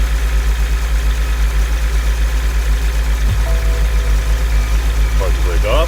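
A 2010 BMW X5 35d E70 diesel idles just after a cold start, holding a loud, steady, low, throbbing clatter close by, with faint chimes near the end.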